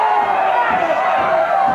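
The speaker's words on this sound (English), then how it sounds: "The crowd hoots, hollers, and barks at Bulldog Bob Brown." Wrestling crowd at a St. Louis arena hooting, hollering and barking at Bulldog Bob Brown, a dense, loud roar of many voices with rising shouts throughout, broad and close.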